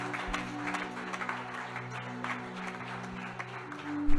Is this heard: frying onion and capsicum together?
no